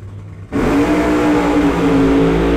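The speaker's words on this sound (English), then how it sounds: "Both cars away clean, side by side." Two drag race cars launch side by side, a quiet lead-in suddenly swallowed by a loud, sustained engine roar that holds steady at full power.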